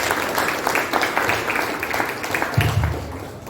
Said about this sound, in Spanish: pido un aplauso para el presentador del libro Distancias